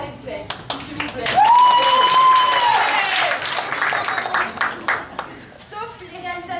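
An ESSEC student audience and jury applaud the BDA arts society, breaking into loud clapping with a high whoop or cheer, while voices talk through the burst as it fades into scattered claps.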